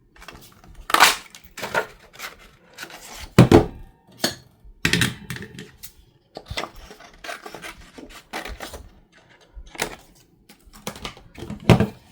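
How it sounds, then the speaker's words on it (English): A paper craft punch snaps out shapes from card stock, with a series of sharp, close clicks and thunks in irregular bursts, separated by handling rustles and short pauses. "Let me punch this one first"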